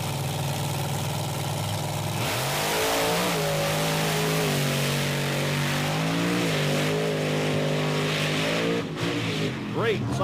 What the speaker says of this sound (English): Great side-by-side monster truck race.